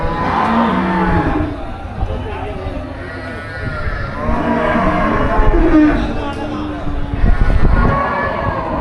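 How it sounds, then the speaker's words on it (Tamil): Jersey cows and other cattle at a busy livestock market give drawn-out moos and lowing calls amid a loud, constant crowd din, with voices talking throughout. "ஏகப்பட்ட ஜெர்சி மாடு வந்துருக்கு இன்னைக்கு"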